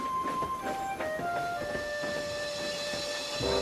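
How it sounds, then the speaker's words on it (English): A steam locomotive pulling a circus train in a Trainz simulation puffs steadily away, with a continuous hiss and soft whistle-like tones over the chuffing and no talking. "Percy watched Thomas and the circus slowly chuff away."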